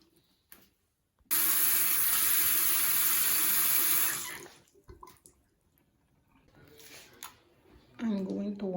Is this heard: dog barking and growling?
no